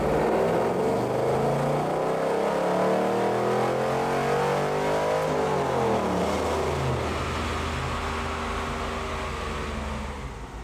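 Chevrolet Camaro Z28 with a ZZ4 crate V8 swapped in, run on a chassis dyno: a loud continuous engine note climbing steadily in pitch through the gears, then a shift and further rising pull, tapering slightly at the end.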